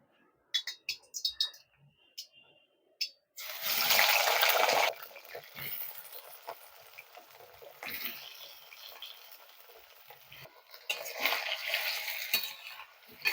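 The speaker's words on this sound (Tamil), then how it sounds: "இந்த கத்திரிக்காய் வந்து ஒரு 2 நிமிஷம் எண்ணெயில் நல்லா வதக்கிக்கலாம்" Sliced eggplant sizzling and being stirred in hot sesame oil in a pan, with bursts of broadband frying hiss and scraping between quieter stretches and a few sharp utensil clicks.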